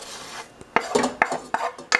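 Sautéed vegetables with soy sauce and drained noodles are tossed together in a pan for a vegetarian stir-fry, giving several sharp utensil clinks and scrapes against the pan in an irregular rhythm, close and fairly loud with no talking.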